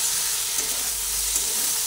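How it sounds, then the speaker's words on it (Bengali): Close, continuous sizzle of vegetables frying dry in a pan without water, a steady hiss with small stirring bumps. "সবজিগুলো ভেজে নিচ্ছি।"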